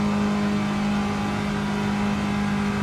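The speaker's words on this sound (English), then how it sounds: "As I approach the final turn 4 in Daytona" A stock car engine in Gran Turismo 7 runs at Daytona, a loud, steady high-revving drone with a strong sustained tone and no pauses.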